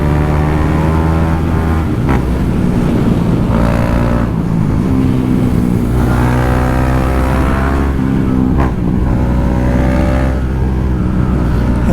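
KTM 390 Duke single-cylinder motorcycle revving hard on twisty roads, bouncing off the rev limiter: a loud, close, continuous engine drone with repeated rising and falling pitch sweeps.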